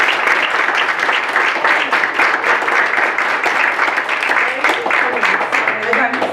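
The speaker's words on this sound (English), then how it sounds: "So I just wanted to give her a big round of applause." A small chamber of commerce meeting gives a round of applause, loud and close, with individual claps distinct, and voices talking under it toward the end.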